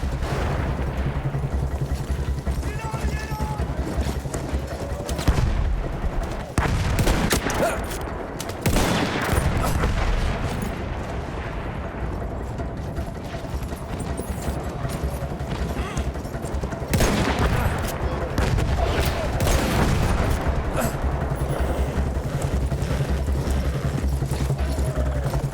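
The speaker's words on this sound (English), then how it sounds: "Artillery already?" Battlefield 1 combat erupts with dense bursts of gunfire, machine-gun rattle and heavy booms of artillery fire, loud and continuous with sharp blasts standing out, while a few voices shout underneath.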